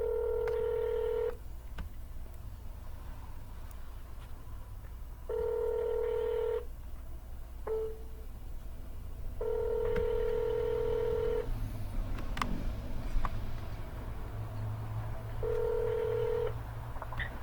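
A phone dials out on a cold call to a property owner, with repeated ringback tones in evenly spaced bursts separated by pauses over a low background hum.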